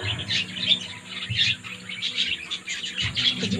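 Birds near a nest chirp with a rapid series of high, bright tweets at close range, steady across the few seconds over a low background rumble, with no talk.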